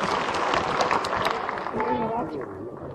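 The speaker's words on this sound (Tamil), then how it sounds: "கைதட்டுங்கயா." Audience clapping at a Tamil event, a busy patter of hands that thins slightly toward the end, with voices rising underneath in the second half.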